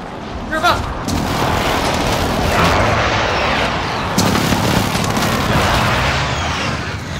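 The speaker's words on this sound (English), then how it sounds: "Friendly precision airstrike inbound." Precision airstrike explosions in the video game Warzone: heavy booming blasts and rumbling detonations roll on continuously, loud and close, with a sharp new impact partway through.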